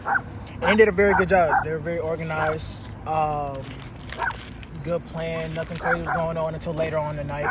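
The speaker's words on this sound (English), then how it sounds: "excuse the dog, y'all." A dog barks and yips repeatedly at a park, the bursts loud and close, with whimpering in between, while a person talks steadily over it.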